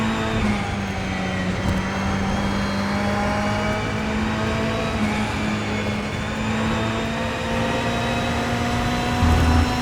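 A Ferrari 488 GTE race car engine drones steadily at high revs through a lap of the Nürburgring in a racing video game, with small pitch shifts and a brief downshift blip near the end.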